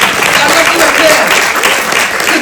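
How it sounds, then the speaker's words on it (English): Steady, loud applause from a festival audience at the Somali Week Festival in London, a thick wash of many hands clapping throughout, with faint voices mixed in. "Can you give them a round of applause?"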